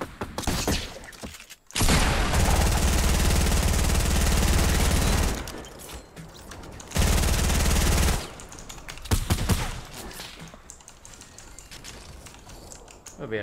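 Gunfire in the Fortnite battle royale video game comes in two long, loud sustained bursts of rapid fire, separated by quieter stretches of game sounds and a few sharper individual shots.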